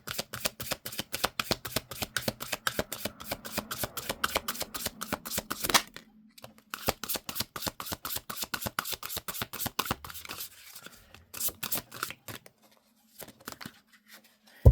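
Tarot cards are shuffled up close in rapid, rhythmic riffling bursts of crisp card slaps, continuing with brief pauses and ending in a few scattered taps.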